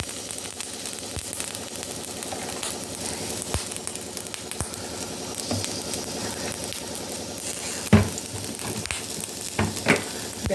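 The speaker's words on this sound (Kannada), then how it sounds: "ಇದೆಲ್ಲನೂ ಸ್ವಲ್ಪ ಆಯಿಲ್ ಹಾಕ್ಕೊಂಡು ಫ್ರೈ ಮಾಡ್ಕೊಳ್ಳೋಣ." Onion, tomato, garlic and curry leaves fry in oil in a pan, giving a steady, close sizzle with occasional louder pops and clatters from stirring.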